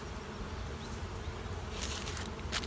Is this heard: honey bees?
yes